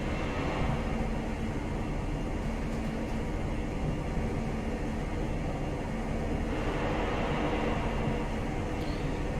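A Class 43 HST train runs between Newcastle and York in Train Simulator Classic, a steady, continuous rumble of engine and rolling wheels at constant level with no pauses.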